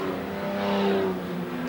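Race car crossing the finish line at Amaroo in a 1990 AMSCAR Series round, an engine note that swells and holds loud as the car passes close, then eases off slightly.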